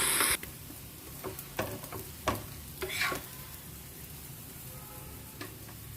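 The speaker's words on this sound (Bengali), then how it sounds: "2 সাইড ভালো মতো ফ্রাই হয়ে গেলে নামিয়ে নেব।" Breakfast food fries in a pan with a soft, steady sizzle, broken by a few scraping stirs and light clatters near the start, then settles into a quiet sizzle.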